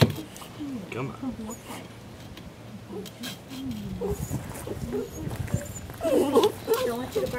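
A dog gives soft, wavering whimpers and whines near a residential water-main repair, intermittent and fairly close, with a louder whining burst near the end while people talk nearby.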